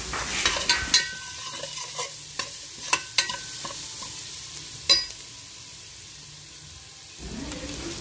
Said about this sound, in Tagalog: Aluin-aluin lang natin, guys.